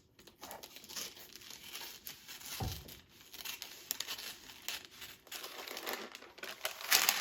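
A dehydrated cookie being cut in half gives a dry crackling, crunching sound that runs through most of the stretch with uneven bursts, close by and fairly loud, with no talking.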